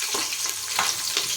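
Onions sizzle steadily in hot oil with whole spices for veg rice, a dense close crackle with a few louder stir pulses, no talk.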